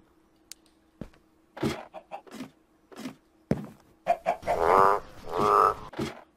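A frog in the Minecraft mod Crazycraft croaks several times, short isolated calls that grow into longer, louder raspy croaks toward the end, alone with no talking, from a video game.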